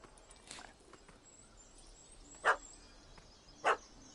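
A puppy barking at a cat up a tree, two short sharp barks spaced about a second apart against quiet outdoor background, moderately close.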